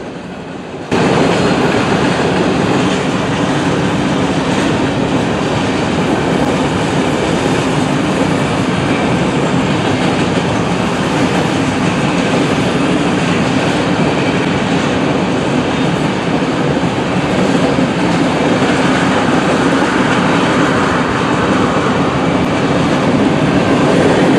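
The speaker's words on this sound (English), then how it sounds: "a northbound NS freight train rolling by" A northbound Norfolk Southern freight train rolls steadily past in a loud, continuous roar of wheels and rail noise that lasts throughout, with no voices.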